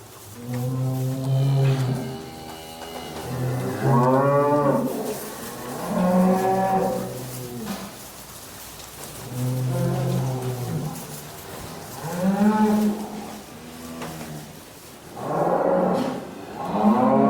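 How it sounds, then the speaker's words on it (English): Several Shirley and crossbred Shirley cattle moo in turn, long low drawn-out calls repeating every couple of seconds, loud and close with a faint barn hum between. "So these now are Shirley cows and crossbred Shirleys"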